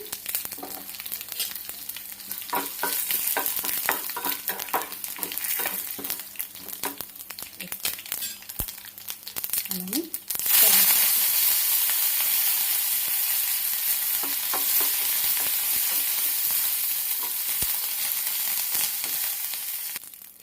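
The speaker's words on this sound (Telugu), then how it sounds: "తాలింపు ఇవ్వండి మంచిగా వేగిపోయింది కదా" Mustard seeds, cumin, garlic and dried red chilies crackle and pop in hot tempering oil, with a sharp burst of sizzling as more is added, then a steady loud hiss continues to the end.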